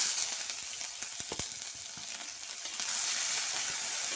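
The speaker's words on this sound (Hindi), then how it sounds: "अब तेल में दे देते हैं 1 टेबलस्पून अदरक पेस्ट, 1 टेबलस्पून बारीक कटे हुई हरा मिर्चा।" Ginger paste and finely chopped green chilies fry in hot oil, giving a steady, bright sizzle with crackling pops and occasional stirring clicks, close and unaccompanied by speech.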